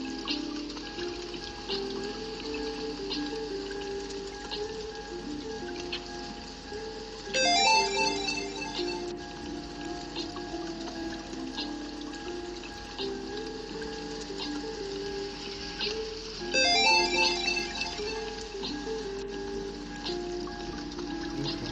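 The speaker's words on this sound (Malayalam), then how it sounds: "ഭയങ്കര മഴയാണല്ലോ" Heavy rain pours in a driving video game as a continuous soft hiss over a low engine hum, with two brief bursts of rapid ticking standing out.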